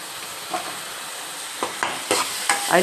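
Fresh masala for a mackerel curry sizzles in a pan under a steady frying hiss, with four or five distinct scraping stirs breaking through, growing more frequent toward the end.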